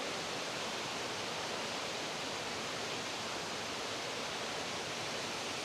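Clean river water flows at a camping spot in Cavite, making a steady, even rushing hiss that stays constant and moderately loud throughout, with no voices over it.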